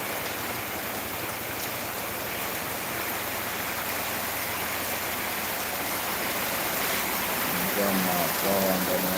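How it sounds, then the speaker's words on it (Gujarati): Rain falling outdoors in the Gir area, a steady broadband hiss of drops that thickens slightly toward the end, with faint low sounds near the close. "વરસાદ થોડો પડી રહ્યો છે"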